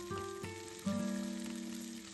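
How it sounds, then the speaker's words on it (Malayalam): Chopped garlic, ginger and green chilies sautéing in hot oil for a breadfruit curry, a soft steady sizzle that jumps louder as the ingredients drop in and then hisses evenly under a low background hum. "2 സ്പൂൺ ഗാർലിക് ചോപ്പ് ചെയ്തതും അതുപോലെ തന്നെ 2 സ്പൂൺ ഇഞ്ചി അരിഞ്ഞതും പിന്നെ അധികം എരിവില്ലാത്ത 4 പച്ചമുളകും ചേർത്ത് നന്നായിട്ടൊന്ന് വഴറ്റി"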